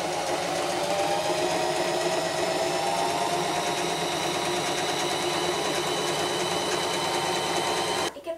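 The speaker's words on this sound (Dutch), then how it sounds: "Nu ga ik dus beginnen met het naaien van de zakjes." Sewing machine stitching pockets on a bag made from an old pair of denim jeans, running steadily and loudly for about eight seconds with a fast even whir, stopping right at the end.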